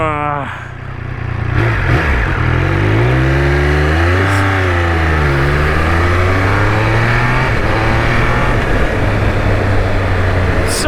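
A motorcycle accelerates hard through its gears using a quick shifter, with a loud, close engine note that climbs and drops smoothly at each upshift, while a rider speaks over it.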